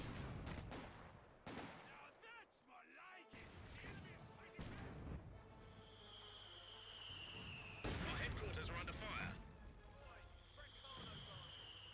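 Mortar and artillery barrages in the strategy game Company of Heroes 2, with repeated booming impacts and crackling fire over a sustained battle din while a commentator talks throughout.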